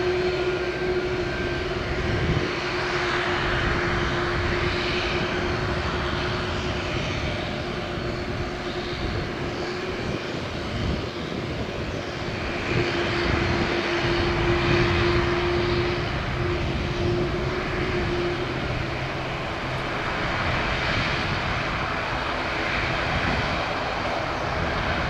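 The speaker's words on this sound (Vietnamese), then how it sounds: "Và bây giờ chiếc A330-200 của HiFly Manta bắt đầu tiến vào đường băng cất cánh." A white-painted Hi Fly A330-200 airliner rolls onto the runway for takeoff at Noi Bai airport, its engines giving a loud, continuous roar and whine that stays fairly level throughout, with no voices.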